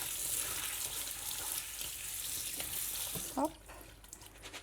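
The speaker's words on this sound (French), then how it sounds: "Et je rince mes pois chiches." Chickpeas rinsed under a running tap in a sink, a steady broadband water rush throughout with a brief clatter near the end and a short spoken word.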